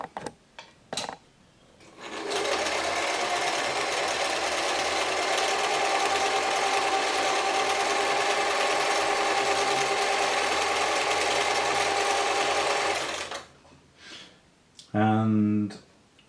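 A German-made Singer 720 sewing machine stitches a pyramid pattern in one steady, loud mechanical whir of about eleven seconds, with short clicks and handling noises before it and a brief voice after it stops.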